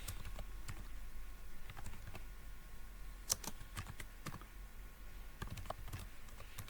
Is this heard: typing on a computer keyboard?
yes